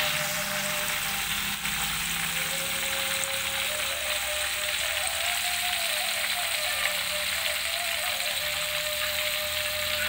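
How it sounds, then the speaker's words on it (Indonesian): Dried bada fish frying in oil, a steady, dense crackling sizzle that holds at an even level throughout with no pauses, close and alone without any talk. "Lanjut kita goreng ikan badanya"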